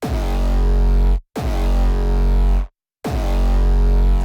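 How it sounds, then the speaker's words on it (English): A heavy, distorted bass synth plays three loud, sustained notes separated by brief silences, thick and gritty with a booming low end. "And then our distortion is coming from, it's kind of a bass synth or something"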